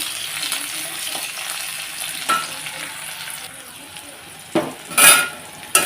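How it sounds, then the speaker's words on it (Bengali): Chopped onion fries in a pan with cumin, ginger and green chilli for a snakehead fish curry, a steady close sizzle with a few stirring scrapes and a loud clatter near the end. "পেঁয়াজ কুচিটা দিয়ে দিচ্ছি আর এখানে মশলার মধ্যে নিয়েছি জিরা আদা পেঁয়াজ কাঁচা লঙ্কা তো এটা একটু লাল করে ভেজে নিয়ে"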